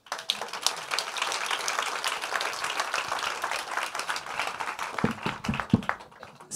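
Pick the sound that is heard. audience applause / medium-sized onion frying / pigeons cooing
audience applause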